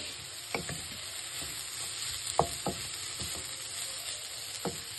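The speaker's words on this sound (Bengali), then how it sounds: "এতে আমি শুকনো লঙ্কাও ফোড়ন দিয়েছি" Dried red chillies tempering in hot oil for a Tamil Nadu style beetroot poriyal make a constant close sizzle, with light scattered clicks and scrapes from stirring in the pan.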